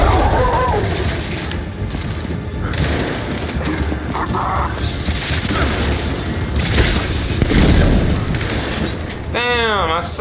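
Dense video game combat in Gears 5 with a booming grenade blast amid continuous rattling gunfire, loud and chaotic, with voices shouting over it and a rising electronic whine at the end.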